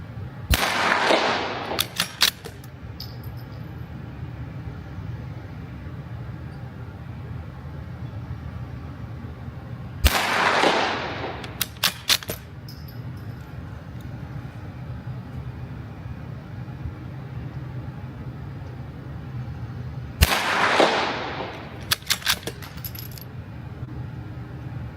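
A scoped rifle firing Aguila Super Extra High Velocity ammunition on a 100-yard test, three loud sharp shots spaced about ten seconds apart, each followed by brief metallic clinks, with quiet outdoor background between.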